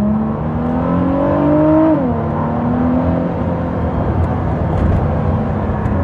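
A Ford GT fitted with a Quicksilver Inconel exhaust drives past, its engine rising in pitch under acceleration, then backing off to a steady loud drone.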